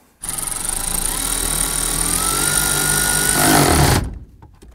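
A bolt is snugged down where the intermediate shaft meets the steering column of a 1993-1997 Ford Ranger; a loud, continuous power-tool whir runs for about four seconds, then cuts off abruptly.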